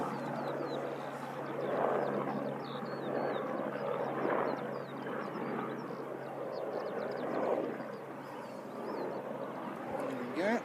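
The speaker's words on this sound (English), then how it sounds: "we've got a helicopter going around" A helicopter circles over Christchurch Airport, its steady, fairly distant engine and rotor drone holding throughout with gentle swells in loudness and faint chirps above it.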